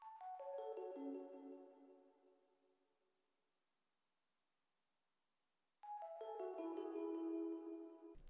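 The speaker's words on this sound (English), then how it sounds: "like an electric piano, but I wanted to give it like a downfalling piano roll effect" A soft, low-velocity electric piano plays a descending roll of notes that cascades downward and rings out into silence, then a second falling roll begins, bell-like and gentle in the background.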